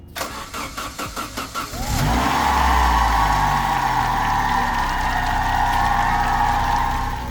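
A car engine with a newly replaced distributor, not yet timed, cranks with a rapid rhythmic chugging for about two seconds. It then catches and settles into a steady, loud idle.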